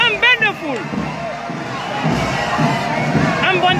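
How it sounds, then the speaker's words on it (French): A crowd cheers and shouts for Colonel Bala Samoura as he arrives at an October 2 celebration in Guinea, with children's high cries and dense babble filling the scene loudly throughout. "Un bain de foule pour ce monsieur."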